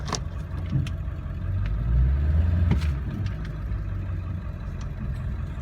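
Low, steady rumble of a 2002 Ford F250 diesel pickup idling close by while it is shifted between neutral, four-wheel drive, drive and reverse, with a slight swell midway and a faint clunk near the middle.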